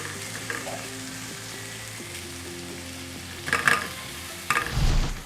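Chicken sauce simmering and frying in a pan, a soft continuous sizzle with a couple of louder bursts of stirring and scraping near the end.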